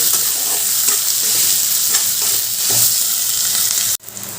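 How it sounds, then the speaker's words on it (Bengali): Onion and crushed garlic fry in oil with a dense, close sizzle and occasional stirring scrapes, holding steady for about four seconds before cutting off abruptly. "এবার পেঁয়াজ আর রসুনটা ভালো করে ভাজা ভাজা করে নেব"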